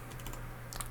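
A few quick key presses on a wireless keyboard, close and fairly quiet, with soft clicks clustered at the start and again near the end.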